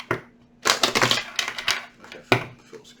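A deck of cards being shuffled gives quick bursts of riffling, clattering snaps, close and fairly loud, in two or three short runs.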